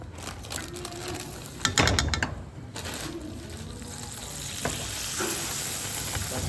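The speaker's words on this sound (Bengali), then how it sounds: "নাটটা আমরা রোস্টেড করছি।" Cashew nuts roasting in a pan make a continuous sizzle, with a burst of rattling and scraping as they are tossed around midway, heard close and without talk.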